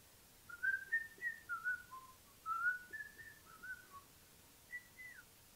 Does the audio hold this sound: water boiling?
no